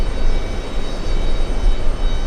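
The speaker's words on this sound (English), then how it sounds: "We have the LATAM 767 flying to Peru." A LATAM Boeing 767 jet at JFK airport, a loud, steady engine roar with deep rumble that holds throughout, no voices over it.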